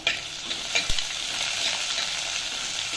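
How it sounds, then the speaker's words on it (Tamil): Onions and curry leaves sauté in a pan with a steady sizzle, broken by a few stirring scrapes near the start. "வெங்காயம் சேர்த்த உடனே ஒரு 5-6 கருவேப்பிலை, இது கொஞ்சம் நல்லா வதங்கட்டும்,"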